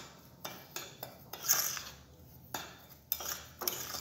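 A spoon stirring the dry ingredients for a basic Romeu e Julieta cheese and guava cake batter in a bowl, giving soft scraping and light metallic clinks in an uneven rhythm, faint and close, with no talking.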